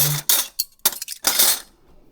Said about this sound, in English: I'll just give it a quick stir